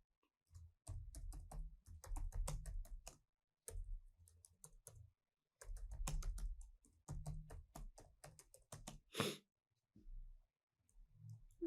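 Fast, uneven bursts of key clicks from a computer keyboard while someone enters text into an Excel spreadsheet, close and fairly quiet, with short pauses between runs of typing and no talking.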